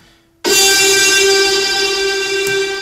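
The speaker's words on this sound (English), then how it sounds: "It's like pretty crunchy kind of synth that I use" Crunchy, gritty synth with tremolo and reverb, entering abruptly after a faint lead-in and holding one loud, bright sustained tone with a slight shift near the end.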